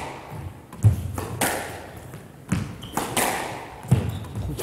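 Squash ball struck and bouncing during a men's semi-final rally at a Karachi squash championship, with three sharp thuds spaced about 1.5 seconds apart echoing in an indoor court amid faint crowd ambience.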